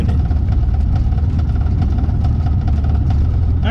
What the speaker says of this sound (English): I'm trying to get the engine running and warm